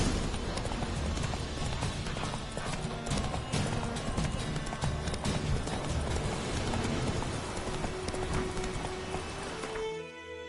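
A horse gallops in The Witcher 3, its hooves drumming in a fast continuous clip-clop rhythm with heavy game ambience, easing off right at the end.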